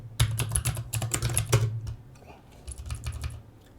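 Rapid typing on a computer keyboard while writing compiler flags, dense clatter of keystrokes in bursts with a brief pause midway, close and fairly loud, a low electrical hum running underneath.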